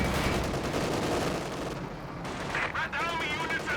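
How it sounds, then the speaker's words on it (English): A machine gun holding a victory point in a Company of Heroes 2 2v2 battle fires steady rattling bursts amid heavy battlefield booms, with a commentator's voice partly under the gunfire. "this machine gun has done a really good job of just holding on to this VP"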